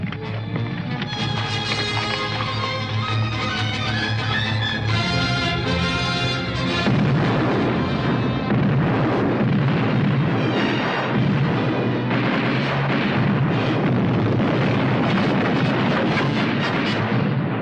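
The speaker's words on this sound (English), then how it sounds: "Is the artillery laid on the fort? Si, mi general. Order them to commence firing." Battle scene from a 1961 Western: artillery pounds a fort in a dense, continuous barrage of booms and crashes, loud and sustained with rumbling, chaotic noise throughout.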